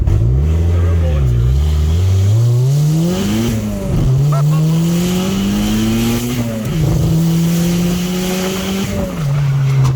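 A 450 hp K24-swapped Toyota MR2 Spyder accelerates hard in first gear, its loud engine note rising and dipping through several revving surges with tire noise, recorded from inside the car under occasional talk.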